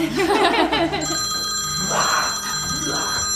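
Telephone ringing with an incoming call during a live stream, a bright trilling bell ring that starts about a second in and continues steadily through the end, after a brief stretch of talk.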